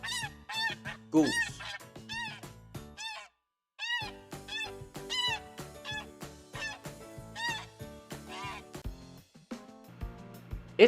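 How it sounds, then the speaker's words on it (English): Farm goose honking amid a music backing, repeated honks scattered through a steady melodic accompaniment, with a short break of silence partway through. "Goose."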